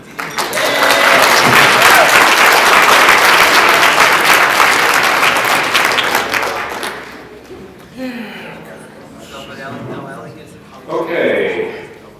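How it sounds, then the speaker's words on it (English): A convention audience at a toastmaster session applauds: loud, sustained clapping for about seven seconds that fades out, followed by a person speaking. "I think you all owe a round of applause to Eric Schumacher."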